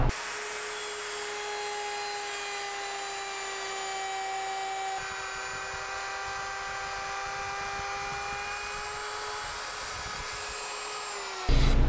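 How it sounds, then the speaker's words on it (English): Wood router cutting through stock in a home shop, a steady high-pitched whine held for about ten seconds with a slight change in tone midway, loud and close with no talking. "that's where I'm going to stop my router while I'm cutting."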